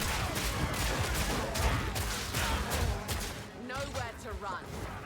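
Grenades go off in Path of Exile 2 as a dense barrage of crackling, booming blasts that runs without pause, with a voice talking over the din.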